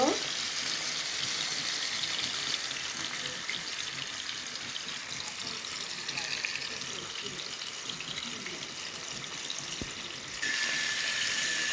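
Pangas fish pieces coated in turmeric, chili, cumin and salt sizzle steadily in hot oil, a continuous close hiss with no talking.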